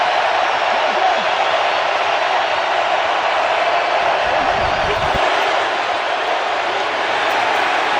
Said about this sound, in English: 3rd down and a yard as the crowd comes to life.